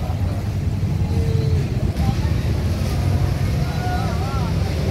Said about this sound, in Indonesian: Ini suasana di parkiran gerimis, angin kencang.